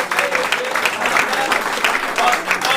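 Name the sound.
applause for the winning team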